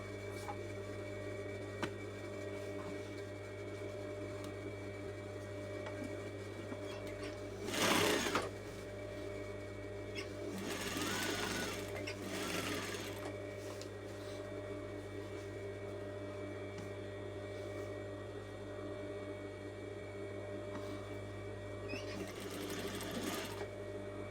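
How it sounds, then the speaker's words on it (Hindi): A sewing machine stitches the front and back panels of a coat together, giving a low steady mechanical hum with a few louder bursts of stitching, fairly faint and close, with no voices. "अब हम मशीन पे इसको फ्रंट और बैक को ज्वाइंट करेंगे।"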